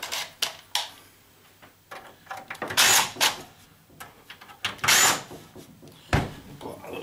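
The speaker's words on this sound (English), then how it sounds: "we've got to get all these screws off" Screws being removed from the casing of a stereo receiver being scrapped for metal, a series of close clicks, scrapes and metallic rattles at irregular intervals with a few louder clunks, no speech.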